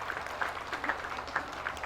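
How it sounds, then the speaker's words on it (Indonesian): An audience claps for graduates at an Islamic school demonstration event, a soft, somewhat distant patter of scattered hand claps throughout. "tepuk tangan untuk para wisudawan."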